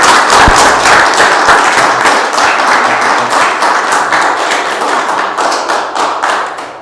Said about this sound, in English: let's have a round of applause from the union.